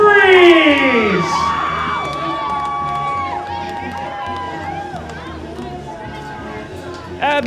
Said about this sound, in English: Give a big round of applause for the 2017 Founders Bowl champions, the Colorado Freeze.